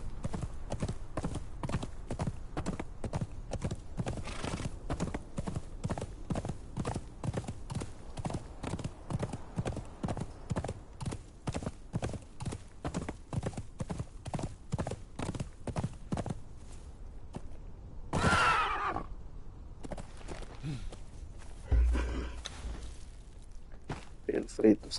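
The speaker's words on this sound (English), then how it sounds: "the horse actually got me here really fast" A horse in the video game Conan Exiles trots at a quick, steady rhythm of close, crisp hoof clip-clops, then slows near the end with a whinny and a few scattered steps.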